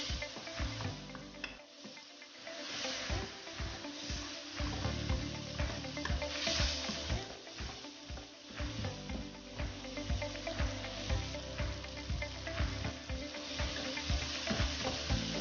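Masala frying in a kadai for spicy achar gosht, a steady close sizzle with scraping stir strokes throughout, loud and continuous with no talking.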